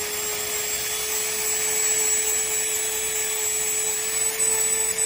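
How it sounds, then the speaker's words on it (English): Dremel rotary tool grinding down toenails, a steady high-pitched whine with a constant droning hum, close and uninterrupted throughout. "So the Dremel, I like to just kind of smooth these down"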